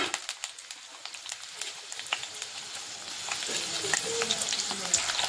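Onion and green chili frying in mustard oil in a home kitchen, a steady close crackling sizzle that thickens and grows busier over several seconds, with no talking.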